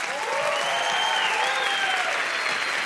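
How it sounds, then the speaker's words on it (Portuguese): Audience applause on a Brazilian television talk show set, a dense, steady clapping from a studio crowd that stays loud and continuous throughout without any talk. "Vamos aplaudi-la."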